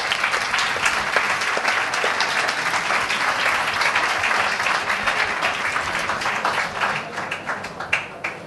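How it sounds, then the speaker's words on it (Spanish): Audience applause at a talk on dyslexia and learning difficulties held at a fair, dense, steady clapping from a crowd that carries on for several seconds before thinning into scattered claps near the end. "otro aplauso, gracias"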